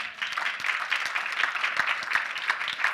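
A church congregation clapping and cheering during a French-language sermon, a dense, bright wash of applause that holds steady with scattered louder claps.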